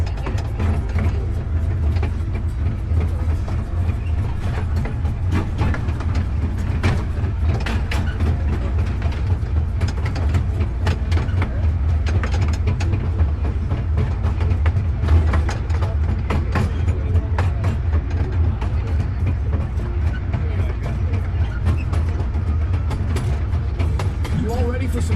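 A continuous low rumble with rhythmic mechanical clatter and rattling from riding inside a moving train at the Dole Plantation in Hawaii, steady throughout.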